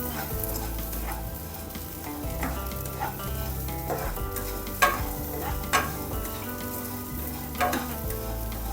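Washed curry leaves and green chillies, still wet, sizzle hard in a pan as the water cooks off. Loud, close crackling and spitting runs throughout, with a few sharp pops and stirring clicks.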